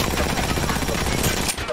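Rapid RE45 pistol fire in the video game Apex Legends, a dense, loud stream of close shots rattling continuously for under two seconds before cutting off.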